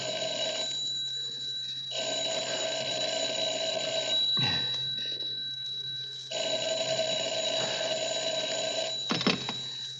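An old-style telephone bell rings in repeated long bursts with short gaps, loud and steady against a quiet room, with a brief thump or handling noise between rings.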